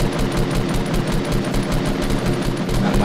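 Loud, continuous rapid automatic gunfire in the video game Fortnite, a dense, unbroken rattle of shots running for three seconds with no pause.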